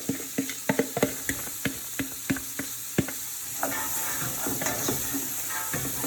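Carrots and celery tumble into a pot of softened, translucent onions, giving a run of sharp knocks and clatters, then a steady close sizzle with soft stirring scrapes for split pea soup.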